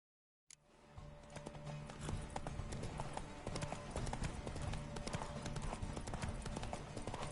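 Horse hooves gallop in a steady, rapid clip-clop rhythm in Witcher 3: Wild Hunt, loud and close, continuing throughout over background game ambience with a faint whinny.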